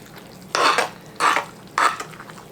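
A fork stirs a broccoli cheese casserole, making three distinct, evenly spaced scraping strokes against the dish, close and fairly loud, with quiet pauses between them.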